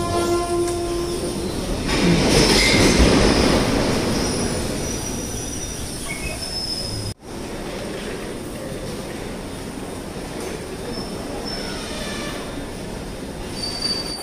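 Train standing at and moving through platform 3 of Rajahmundry station, with loud metallic wheel squeal and rumbling rail noise throughout, a sharp brief dropout midway, then steady rolling clatter and faint high whines.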